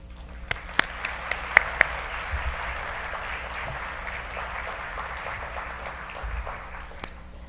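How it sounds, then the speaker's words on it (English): Audience applauding AMCHAM mentees at a women's leadership conference: steady, moderately loud crowd clapping sustained for several seconds, with a few sharper individual claps standing out near the start. "so we can give them a round of applause"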